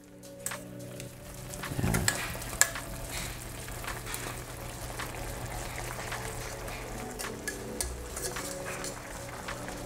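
Chicken inasal frying in a kawali pan over low to medium heat, a steady close sizzle filling the whole stretch with a few stirring clatters and brief knocks near the start.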